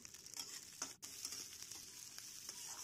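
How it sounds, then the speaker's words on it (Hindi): Dried red chili, garlic, onion and ginger frying in a tempering for drumstick leaf sabji, a steady close sizzle with soft stirring scrapes and no talk. "तो तड़का अच्छे से हमारा भुन गया"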